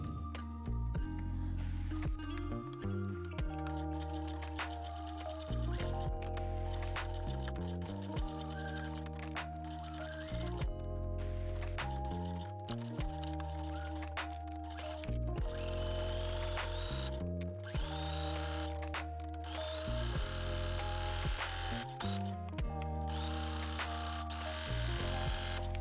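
Steady mechanical whir of a sewing machine stitching the center back seam of a yoke skirt, running continuously for a long stretch, with a brief pause and restart partway through.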